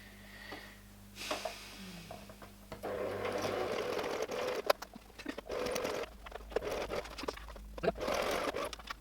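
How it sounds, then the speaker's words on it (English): A sewing machine whirs in stretches of rapid stitching through a quilted jacket, starting and stopping several times, close by and fairly loud. "I kind of always just like shove it through the sewing machine"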